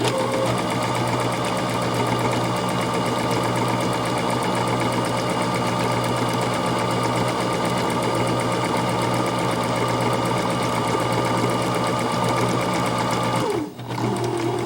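A sewing machine runs steadily, stitching around a fabric face mask with elastic ear loops, a loud, even motor hum and rapid needle chatter continuing nearly unbroken before a brief stop near the end.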